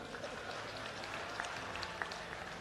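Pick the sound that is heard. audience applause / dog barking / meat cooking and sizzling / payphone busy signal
audience applause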